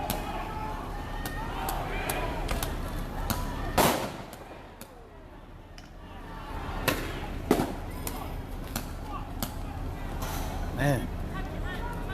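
A pepper ball gun firing at a street protest in Kenosha, Wisconsin, at night in August 2020: sharp, loud pops at irregular intervals, some rapid in pairs, over crowd noise and nearby talking.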